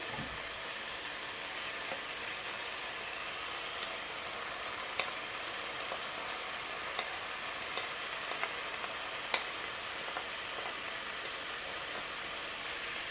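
Bell peppers and carrot sizzle with half-cooked minced meat in a pan, a steady dense frying hiss with occasional small pops and stirring clicks, close and continuous with no talking.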